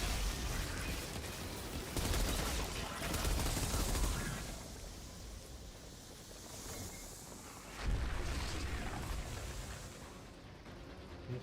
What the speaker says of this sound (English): Then rocket launcher.